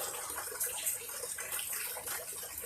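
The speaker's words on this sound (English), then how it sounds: "you can see a little trickle of water out the bottom right there" A thin trickle of water running steadily out the bottom of a full blue rain barrel, a soft continuous splash heard close up with no voices.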